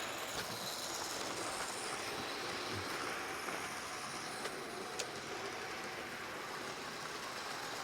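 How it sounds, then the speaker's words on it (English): Two HO scale model trains run together on a DC-powered layout, giving a steady close rumble of small wheels on track with faint clicks and squeals, with no talk. "And that's how you run two trains at once."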